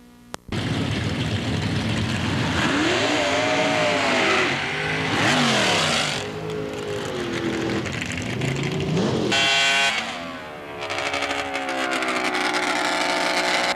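Steve Carlson's drag racing rail dragster at a 1997 drag strip, a loud engine roaring and revving in long rising and falling sweeps, with sharp bursts and cutoffs and no talk over it.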